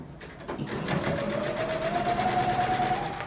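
A sewing machine runs steadily on a regular stitch while sewing recycled jean fabric, a close, continuous rapid mechanical whirr with a rising motor tone.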